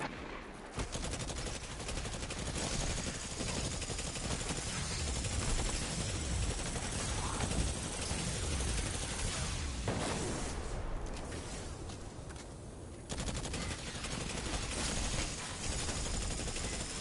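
Enemy gunfire in Destiny, a dense near-continuous barrage of rapid automatic shots and blasts lasting throughout, loud and close with brief gaps.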